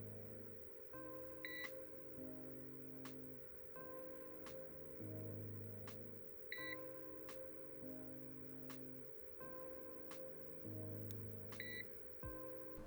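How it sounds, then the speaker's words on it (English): A Goldenmate uninterruptible power supply for a PC, running after a power loss, gives regular short electronic beeps at a steady interval over the faint, constant whir of its cooling fan. "a quick sound test on the beep and fan"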